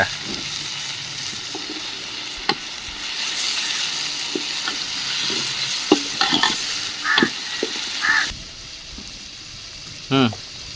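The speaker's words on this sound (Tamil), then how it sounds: "வெங்காயம் வதக்கிச்சு. இப்போ நம்ம தக்காளி போடலாம்." Onions and tomatoes sautéing in a pan for village-style chicken kuzhambu, a steady close sizzle with occasional stirring clinks and scrapes; a voice talks briefly in the background.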